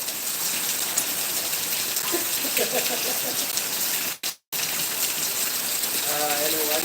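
Steady rain hisses down continuously in Khambha, Gir, dense and close, with a brief drop-out partway and faint voices murmuring underneath.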